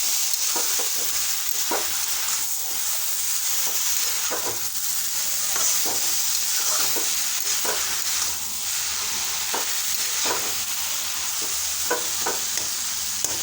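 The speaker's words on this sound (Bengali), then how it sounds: "তারপরে দুধটা দিব, ভেজে নিব আগে ভালো করে ঘিয়ের মধ্যে।" Grated carrot and coconut fry in ghee for carrot halwa, a steady loud sizzle overlaid by regular scraping strokes as the mixture is stirred in the pan.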